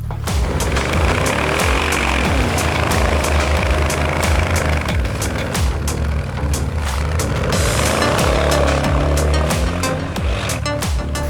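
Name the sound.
AMG V8 engine revving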